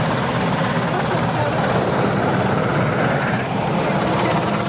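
A helicopter drones steadily and loudly throughout, its dense broadband rotor and engine roar unbroken from start to finish, on a British sea patrol.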